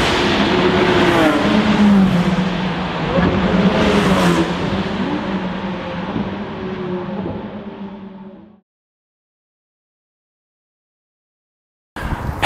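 A King's Red VW Polo GTI accelerating, its engine loud and near with a rising, whining pitch under load. The roar fades away, then silence, then a brief burst of engine noise returns at the end.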